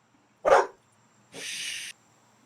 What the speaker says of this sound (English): You can hear the dog fine.